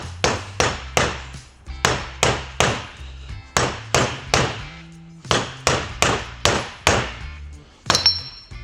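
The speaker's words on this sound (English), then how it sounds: "Use your dead blow hammer and just work yourself around." Repeated dull, heavy dead blow hammer blows strike a part on a 2022 Toyota 4Runner TRD Pro at a steady rhythm, about two per second, close and loud, with a short pause midway.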